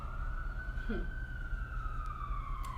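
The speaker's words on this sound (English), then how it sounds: "And listen to those sirens." An emergency vehicle siren wails outdoors, one long tone that rises and then slowly falls, moderately distant, over a low constant rumble of background traffic.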